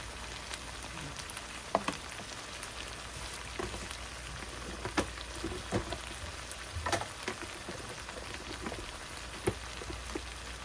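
Chickpeas with cumin powder and garam masala being stirred and fried for hotel-style chhola bhaji: a soft, steady sizzle with intermittent spoon taps and scrapes against the pan, fairly quiet throughout.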